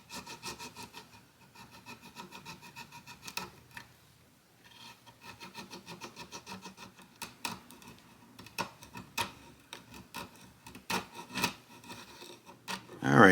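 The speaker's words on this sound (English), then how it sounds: "I'm going to be cleaning it out with chisels and a little file" A nut slot on a 1937 Martin OOO-28 guitar is cleaned with chisels and a small file, giving quiet, scratchy rasping strokes in irregular bursts that grow louder toward the end.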